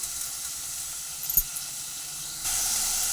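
Large onions sprinkled with salt sauté in a pan, giving a quiet, steady sizzling hiss that grows louder near the end, with a small clink partway through.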